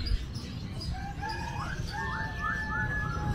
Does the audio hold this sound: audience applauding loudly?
no